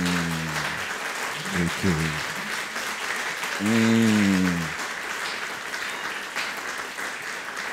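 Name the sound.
audience applauding and cheering in church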